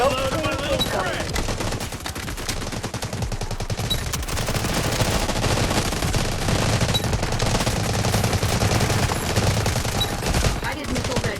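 Bizon submachine gun fire in the Delta Force mobile game, with long sustained bursts of rapid shots running nearly nonstop and loud up close, amid battle effects.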